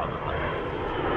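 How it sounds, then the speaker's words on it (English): Fixed-wing airplanes pass overhead in a backyard, a steady broad engine roar filling the clip. "planes above my head, that's pretty cool."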